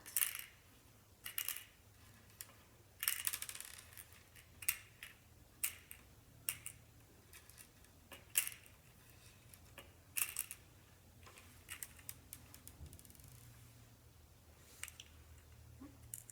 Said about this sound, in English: the first step would be to put your beads in your Easter egg